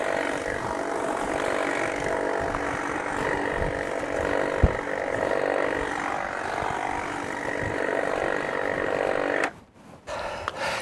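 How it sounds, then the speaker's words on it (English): A hedge trimmer prunes a hydrangea, its motor buzzing steadily and loudly through most of the stretch before cutting out abruptly near the end, then briefly resuming. "I'm going to just use a hedger this time instead of hand pruning"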